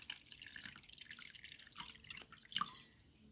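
Water is poured into blueberry-skin juice to dilute it, making a faint, close trickle with scattered drips and a brief louder splash near the end.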